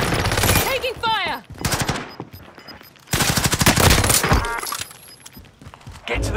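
Machine gun fire from Call of Duty: Modern Warfare, loud rapid automatic bursts in two long stretches separated by a brief lull, with game voice and effects mixed in.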